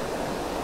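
Steady rushing and babbling of water flowing through a tiny creek, a continuous broadband wash with no voices.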